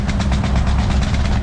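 A Scania truck engine in Euro Truck Simulator 2 rumbles with a deep, heavy low-end drone and a fast regular pulsing throb, loud and continuous.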